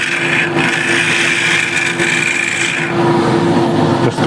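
A scraper cutting a natural-edge Katalox wood piece on a spinning lathe, a steady, loud, close rasping scrape over the constant hum of the machine, continuous with slight variations in intensity.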